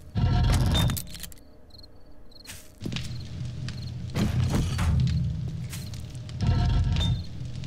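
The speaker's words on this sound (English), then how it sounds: "Alright, explosive crossbow bolts. Let's try this." Explosive crossbow bolts detonating in the zombie survival game 7 Days to Die, with loud booming bursts at the start and end and a rumbling mid-section dotted with thuds and clattering impacts.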